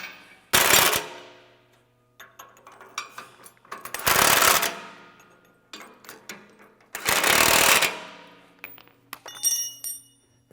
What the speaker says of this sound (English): use a big Allen on one side and then an impact, and tighten these up